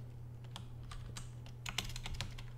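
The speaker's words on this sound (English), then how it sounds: "You gotta type it all over again" Steady typing of code on a computer keyboard, a quiet run of irregular key clicks over a low constant hum, with no one talking.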